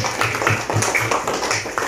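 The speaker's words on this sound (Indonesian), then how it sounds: "tepuk tangan untuk kita semua." Children in a classroom clap their hands together in a quick, loud, rhythmic patter of claps for about two seconds.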